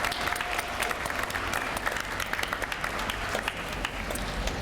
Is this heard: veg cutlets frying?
no